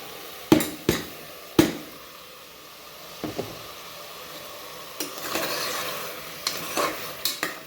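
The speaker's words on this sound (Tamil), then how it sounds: "இப்போ பூண்டு எடுத்து நம்ம போட்டுக்கலாம்." Garlic being stirred in a hot pan for bhurta, with sharp scraping and tapping of a spoon against the pan over a soft, steady sizzle, several distinct knocks at irregular intervals.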